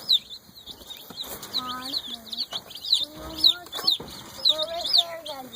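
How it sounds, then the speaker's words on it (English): Golden Comet baby chicks on their first day out on farm pasture in Iowa, a run of high, bright peeps and cheeps repeating throughout, with soft children's voices now and then and outdoor ambience. "It's like the chicks' first day out here. Yep, first day on pasture."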